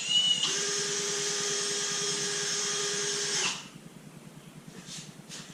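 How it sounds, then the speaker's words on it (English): A power drill whirs steadily for about three seconds while boring a small hole through a rubber piece on a 2014–2018 Chevrolet Silverado or GMC Sierra during an AMP Research PowerSteps install, then cuts off abruptly. "So I'm going to drill a little hole here to run those 2 wires up through."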